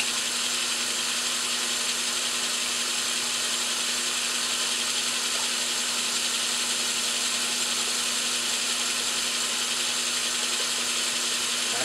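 Steady, continuous machining noise with a grinding, scraping texture and a constant hum, an oiled reamer cutting metal on a running lathe, with no talking.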